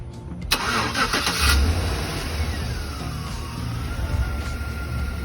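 A 2012 Chevy Tahoe LTZ engine cranks briefly and catches, then settles into a steady, fairly loud idle close by, with no talking.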